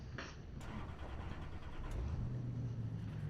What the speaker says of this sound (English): A little bit of engine noise.